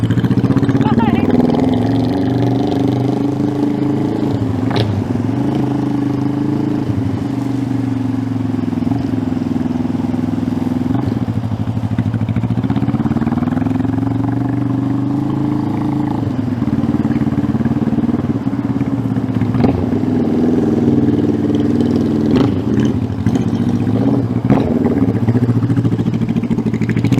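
A 1971 Honda CB350 motorcycle engine runs steadily and idles a little high, a continuous close, loud drone with slight rises and dips in pitch across the stretch.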